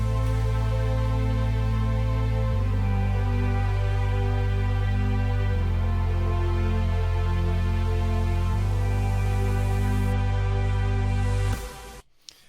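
Sustained synth chords with added effects, bounced to audio in FL Studio for a UK happy hardcore track, changing roughly every three seconds in a steady loud block before cutting off near the end.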